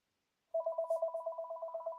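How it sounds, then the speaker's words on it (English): A telephone rings nearby with a rapid warbling electronic trill that starts abruptly and pulses evenly for over a second in an otherwise quiet room. "Uh-oh, the phone's ringing."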